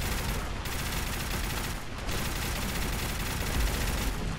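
Custom poison weapon firing in the Fallout 4 video game, a rapid, continuous stream of loud automatic gunshots with short gaps, dense and sustained, no talking.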